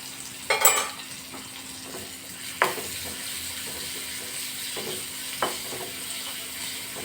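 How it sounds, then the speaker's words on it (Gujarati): Green chillies sautéing briefly in a pan for a flour-coated chilli relish, a soft steady sizzle broken by three sharp stirring scrapes, no voices. "હવે પહેલાં મરચાંને છે ને 1 સેકન્ડ માટે આમાં સોતળવાનું છે."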